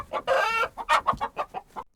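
Farmyard chickens cluck close and loud in a quick run of rhythmic, choppy calls, with one longer drawn-out squawk near the start and no talking.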